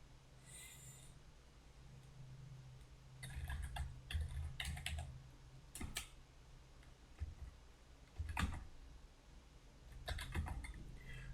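Bursts of typing on a computer keyboard, irregular clusters of clicky keystrokes separated by brief pauses over a low steady hum, with no talking.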